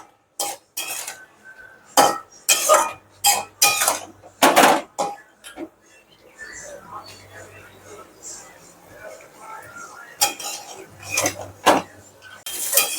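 A spoon scraping and clinking against a pot while fish head and Malabar spinach curry is stirred, in a few short bursts of metallic knocks, with someone talking between and over them in a home kitchen.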